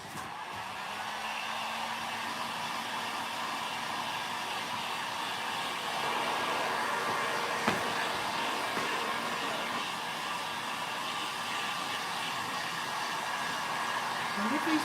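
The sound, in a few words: drying paint with a hair dryer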